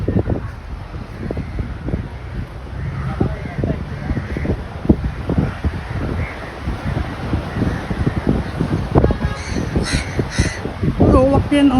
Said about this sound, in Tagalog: ang dami uwak.